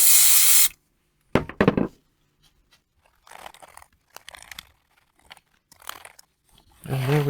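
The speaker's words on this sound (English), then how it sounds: "for the body, I normally just use furniture polish" Close aerosol spray of furniture polish from an Aldi can, applied to a cloth for cleaning a Dell Latitude 5480 laptop body: one long hiss at the start and another near the end, with scattered rubbing and handling noises between.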